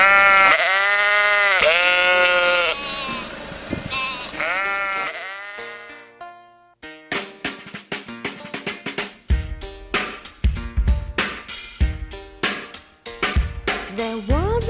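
Sheep bleat loudly in long wavering calls, followed by a burst of bright rhythmic music with repeated plucked or struck notes.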